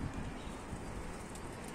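Pigeons coo softly in a steady murmur against constant background hiss, with no voices present.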